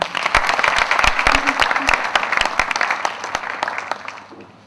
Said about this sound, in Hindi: प्लीज बच्चों के लिए एक जोरदार तालियां